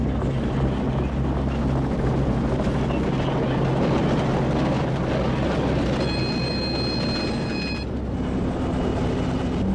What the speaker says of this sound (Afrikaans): Die helikopter tref die drade.